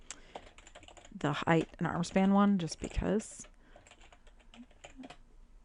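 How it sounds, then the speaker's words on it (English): Computer keyboard typing while working on a math project document in a word processor, with a person speaking over the keystrokes, followed by sparse, quieter clicks of individual keys. "So I'm going to start typing."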